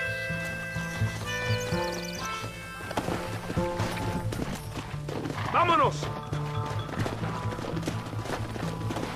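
Horse hoofbeats from the Western video game Red Dead Redemption, mixed with game music, a whinny and a shouted line of dialogue, all fairly loud and busy throughout.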